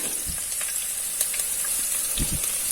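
Finely chopped ginger and garlic sauté in hot oil in a pan for a Kerala-style chicken molee, making a continuous close sizzle with a few soft stirring knocks.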